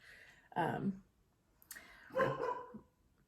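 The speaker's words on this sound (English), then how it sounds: "Sorry if you can hear Rip barking." A dog barks in two short bursts, fairly close, separated by a quieter pause with faint background noise.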